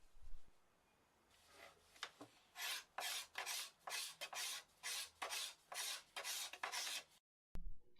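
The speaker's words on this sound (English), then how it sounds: "repeatedly inspect and then scrape and then inspect and then scrape until the bow's poundage is correct and the limbs bend evenly" A scraper shaves wood from the limb of a handmade English longbow: a series of rasping strokes, about a dozen in steady rhythm, close and distinct, with short pauses between them and no talking.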